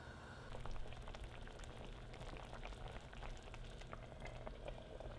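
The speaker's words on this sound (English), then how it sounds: "Then we're going to put the lid on and let it simmer for 15 minutes" Pumpkin soup simmers in a lidded pot with a faint, steady bubbling hiss and tiny irregular pops, low and continuous throughout.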